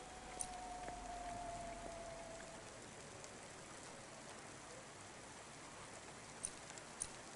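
Steady rainfall in a rainy city street of the Cloudpunk video game, a soft continuous hiss of drops with a faint tone early on and a couple of light taps near the end, no voices.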